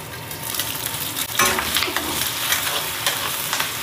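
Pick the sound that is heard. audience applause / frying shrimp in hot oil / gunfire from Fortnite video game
frying shrimp in hot oil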